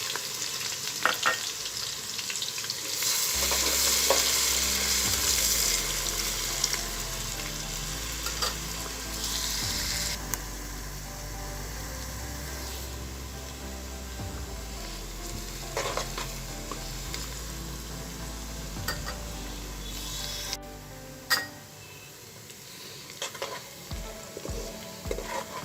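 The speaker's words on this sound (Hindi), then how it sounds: "प्याज हमारा फ्राई हो चुका है।" Onions frying in ginger garlic paste for an aloo chicken curry, sizzling steadily in the pan while being stirred with occasional scraping clicks, close and continuous with no talking.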